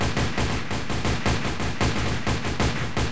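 Rapid gunfire in Minecraft's MineZ mod on a Thai server, a loud sustained burst of repeated shots in an even rhythm, close and continuous with no talk.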